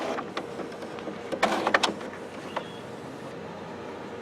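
An HP Officejet Pro inkjet printer fitted with a continuous ink supply system, its lid opened, whirs softly as the carriage slides over, with a few light mechanical clicks and knocks in a quiet room.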